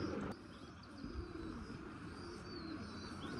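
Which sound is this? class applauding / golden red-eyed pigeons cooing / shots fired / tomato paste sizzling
golden red-eyed pigeons cooing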